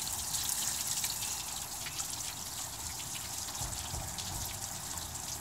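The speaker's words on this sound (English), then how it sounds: "Oh, here comes the warm water." Warm water rushes steadily through a hose hooked to the hot water plumbing to flush the radiator of a K5, a continuous hissing gush with faint trickling, close and unbroken.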